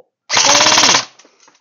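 Golden Eagle M16A4 electric airsoft gun, model F6620, fires one loud, close full-auto burst lasting under a second, a rapid buzzing rattle of shots that cuts off abruptly, followed by faint handling clicks.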